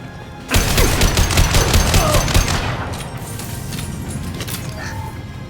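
Gunfire in Mass Effect 2: a loud, dense burst of rapid shots rattles for about two seconds, then gives way to a lower, steady rumble of battle with a few scattered cracks.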